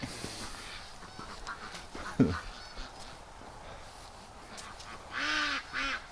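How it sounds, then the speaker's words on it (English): Canada geese honk faintly in the distance outdoors, a couple of short calls near the end over quiet background noise and a brief knock. "Okay, I just heard the Canada goose."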